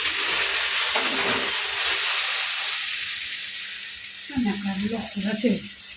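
Water and mustard oil hiss loudly on a hot pan, a broad steady sizzle that gradually fades while a person starts talking near the end.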